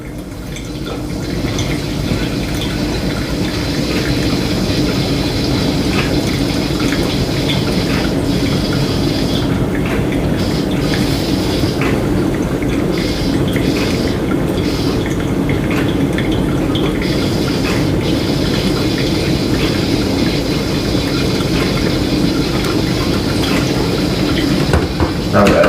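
Hot water poured over coffee grounds for a pour-over brew, a continuous near stream of liquid trickling and filling at steady volume for a long stretch with no pauses.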